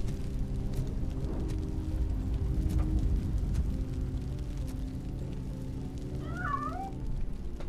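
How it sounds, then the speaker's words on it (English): A cat meows in RoboCop: Rogue City inside a small apartment amid fire: a short run of rising and falling meows near the end, over a steady low rumble of game ambience. "I found the cat."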